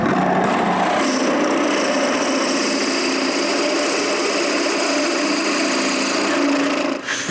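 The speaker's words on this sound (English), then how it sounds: "Then I use a masonry bit. And with its carbide tip, I'm able to finish both holes." A carbide-tipped masonry bit drills holes, giving a loud, steady grinding whine that runs continuously for several seconds before stopping abruptly near the end.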